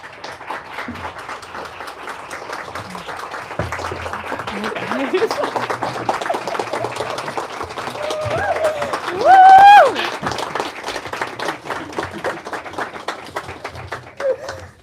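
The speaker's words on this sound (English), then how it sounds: "Please give a massive round of applause." An audience at a comedy event applauds steadily, clapping and cheering throughout, swelling slightly midway; a voice speaks briefly over the applause.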